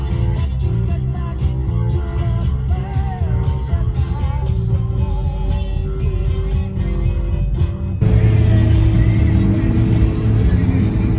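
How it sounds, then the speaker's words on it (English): Car traffic idles and rumbles in a traffic jam under light drizzle, a dense, continuous low engine drone with music playing over it throughout. "Traffic jam. Can't escape it."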